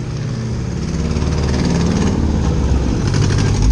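A Hyundai Veracruz V6 with a stainless steel exhaust diffuser runs with its valve opened, giving a loud, deep, continuous engine drone with a steady low rumble close to the microphone.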